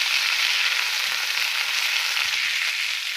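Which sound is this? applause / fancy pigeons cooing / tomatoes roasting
tomatoes roasting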